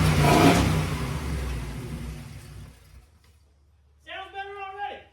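A turbocharged engine in a 1950 Chevy on a Pontiac G8 chassis roars and revs loudly, then fades out. A short burst of speech follows near the end.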